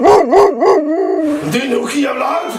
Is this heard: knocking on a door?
no